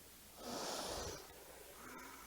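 Heavy, forceful breaths during a no-equipment strength workout, one long loud exhale followed by a softer breath, close up with no talking.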